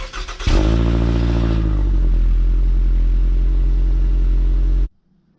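Stock muffler exhaust of a Scion tC, a loud steady engine drone with a brief rev at the start, close to the tailpipe, then cut off abruptly.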